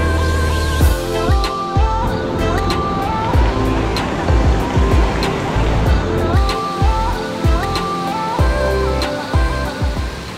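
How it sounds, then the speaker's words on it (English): A jungle waterfall pours in a steady, loud rush of water, broad and continuous, with some clattering and bumps from nearby handling over the roar. "we've made it to the waterfall, which is like, I think one of the coolest waterfalls I've ever been to"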